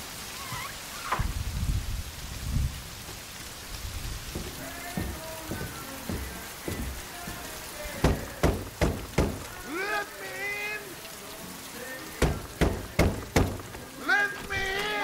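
Rain patters on surfaces during a storm, a soft constant wash beneath a film scene, with voices and sharp knocking or thuds breaking through at intervals.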